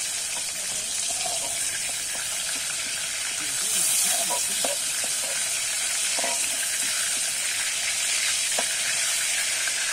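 Slices of pointed gourd (potol) fry in hot oil for a Bengali vegetarian potol posto, giving a steady close sizzle with occasional stirring clinks and scrapes. No one speaks.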